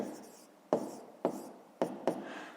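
Pen or chalk strokes while working a 5th-grade math subtraction problem, a few short scratchy marks spaced about half a second apart, close and fairly quiet.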